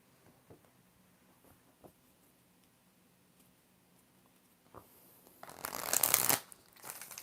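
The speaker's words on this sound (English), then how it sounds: "Four shuffles for lover." Tarot cards shuffled by hand, a few faint taps and flicks at first, then a loud, close riffling burst of about a second before it stops.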